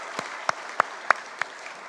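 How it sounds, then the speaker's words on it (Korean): A church congregation claps to welcome a new member during a Sunday service, but only a few sparse, distinct claps come through at a steady rhythm over faint room noise. "우리 큰 박수로 감사하겠습니다"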